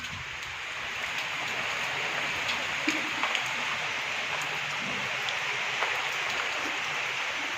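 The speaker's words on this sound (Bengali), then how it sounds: "একভাবে বৃষ্টি পড়ছে।" Steady rain falling outdoors, a continuous broadband wash of drops with faint scattered patters, fairly loud and even from start to finish, without any speech.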